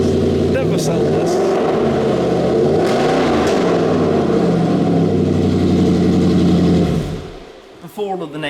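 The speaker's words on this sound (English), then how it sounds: "Factory titanium exhaust." A car engine with a factory titanium exhaust runs loud and close, its pitch rising and falling with throttle blips before it cuts off abruptly near the end, followed by a few faint sounds.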